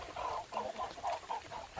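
Wet free-range chickens out in heavy monsoon rain give a run of soft, repeated clucks at close range, forming a steady murmuring rhythm over a background hiss.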